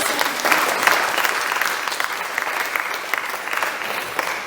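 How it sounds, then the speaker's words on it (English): A small audience at a music recital claps steadily for a few seconds, the applause close and even without cheering. "Oh, please clap."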